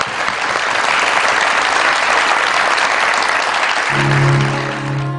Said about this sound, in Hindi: बहुत सारी तालियां जी मेरे मेहमानों के लिए।